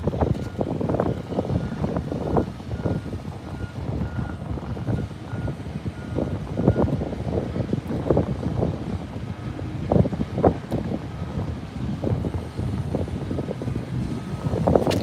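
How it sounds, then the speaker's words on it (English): Outdoor wind at the SpaceX Starbase launch site in Boca Chica, Texas, gusts in a steady moderate rush with irregular low buffeting bursts against the microphone throughout, no voices. "the wind's picking up"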